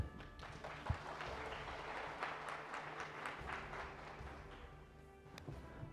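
Audience clapping at a taxpayer rights forum, heard faint and fairly distant as a steady patter of many hands lasting several seconds in a quiet room.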